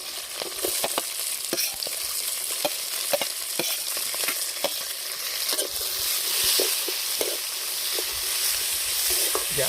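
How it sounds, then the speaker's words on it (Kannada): Curry leaves and urad dal fry in oil in a pan over a village wood-fired stove, with a steady close sizzle broken by frequent sharp clicks of a spoon stirring against the pan. "ಕರಿಬೇವು ಹಾಕ್ಕೊಂಡು ಎಣ್ಣೆ ಸ್ವಲ್ಪ ಫ್ರೈ ಮಾಡ್ಕೋಬೇಕು."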